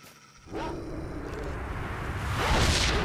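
A dog barks and yelps amid gunfire and game sound effects in S.T.A.L.K.E.R.: Shadow of Chernobyl, with a rising whoosh, fairly close, with busy background noise throughout.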